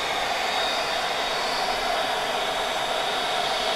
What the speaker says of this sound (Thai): พัดลมรุ่นนี้โคตรแรงครับ